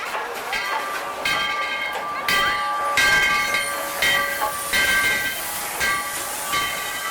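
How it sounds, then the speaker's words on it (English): Dollywood Express steam train Klondike Katie rolling into the depot at Dollywood, with steady hissing steam, ringing bell tones and clanking rail noise throughout, fairly close, while voices murmur in the background. "Klondike Katie's rolling into the depot for the first trip for the day"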